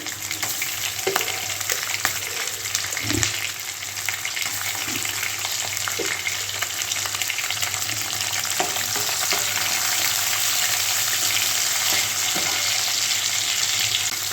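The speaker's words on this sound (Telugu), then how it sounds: "ముందుగా వెల్లుల్లి రేకులు వేసుకుందాం తర్వాత ఆనియన్స్ ఇవి వేగిన తర్వాత ఎండుమిరపకాయలు కరివేపాకు వేసుకుందామండి" Garlic slices and onions fry in hot oil with a steady, dense sizzle that runs the whole way through, broken now and then by faint clinks and stirring scrapes in a home kitchen.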